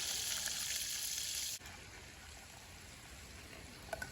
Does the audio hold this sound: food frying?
yes